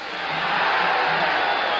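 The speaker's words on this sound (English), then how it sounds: "And the crowd yells now with every Escalera blow" A boxing arena crowd roars steadily through the 13th round of a professional fight, a dense, continuous wall of yelling and cheering with no break.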